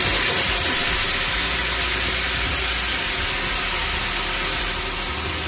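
Soy sauce sizzles in a hot pan of green peppers and ground meat, a steady, loud broadband hiss with faint bubbling underneath, lasting throughout with no speech.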